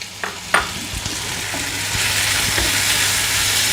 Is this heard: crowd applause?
no